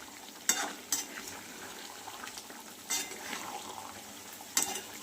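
Chicken sautés in a pan under a soft, steady sizzle, with a few distinct clanks of a spoon against the pan spaced through the clip.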